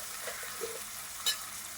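Whole green chillies fry in hot oil in a steady close sizzle, with a soft stir around the middle and one brief sharp crackle near the end.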